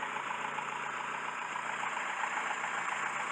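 A Mercedes W115 engine idles steadily while warming up, with a rusty fuel tank, giving a continuous even mechanical hum close by with no talking.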